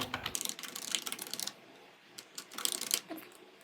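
Rapid clicking of computer keyboard keys while typing a CV in MS Word, fairly quiet and close, in two bursts separated by a short pause.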